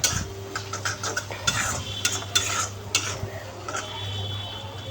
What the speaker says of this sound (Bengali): এই একে একে সবজিগুলো সব ভাজছি।